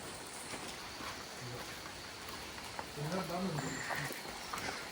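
Steady rain patters down outdoors in Kerala, a broad even hiss, with voices murmuring faintly partway through.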